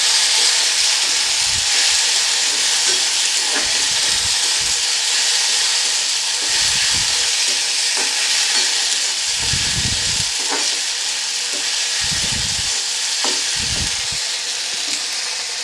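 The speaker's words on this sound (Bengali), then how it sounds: "দিয়ে দিচ্ছি টমেটো বাটা, দিয়ে আবারও এটা ভালো করে আমি কষিয়ে নেব।" Tomato paste and green chillies sizzling and frying in a pan while egg curry masala is sautéed, a steady hiss with intermittent stirring scrapes and bursts, close and alone.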